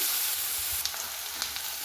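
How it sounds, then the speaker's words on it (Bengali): Chopped onions with green chillies frying in a pan for a boneless Bombay duck dish give a steady close sizzle with a few light stirring clicks, no talk. "পেঁয়াজের সঙ্গে দিয়ে একেবারে একটু ভালো করে এটা একটু ভাজা ভাজা করে দিচ্ছি"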